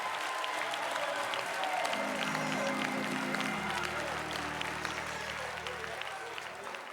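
A church congregation applauding the Lord, sustained dense clapping filling the room, with a voice speaking over it near the start.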